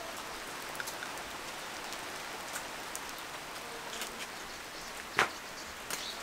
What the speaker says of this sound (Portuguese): Boa chuva, né? A chuva